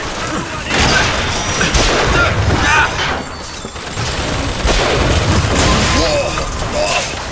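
Repeated booming rocket blasts and crackling gunfire in BioShock Infinite burst over a chaotic background, loud and dense, with impacts arriving in rapid clusters.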